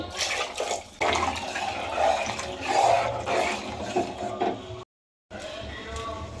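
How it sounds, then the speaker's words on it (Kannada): Four glasses of water poured into a pan of fried ingredients for fenugreek pulao: close splashing and gushing in bursts, with one brief silent gap and no talking. "ಈಗ ಅದಕ್ಕೆ ನಾನು ನೀರು ಹಾಕೊತಾ ಇದ್ದೀನಿ ನಾಲ್ಕು ಗ್ಲಾಸ್ ನೀರು ಹಾಕೊಳ್ಳಿ"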